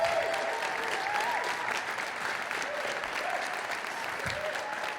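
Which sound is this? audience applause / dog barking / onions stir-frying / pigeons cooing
audience applause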